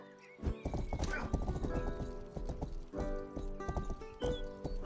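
Hooves clop rhythmically on a hard surface while a horse whinnies once or twice in a medieval video game, with game-like ambient sound underneath.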